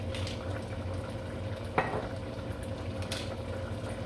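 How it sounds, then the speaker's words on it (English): Pot roast cooking liquid with rosemary simmers and bubbles in a pot, a steady low rumbling boil throughout with one brief clink near the middle. "We don't really want it to boil too much."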